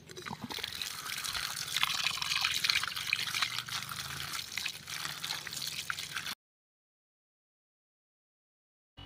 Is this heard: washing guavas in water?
yes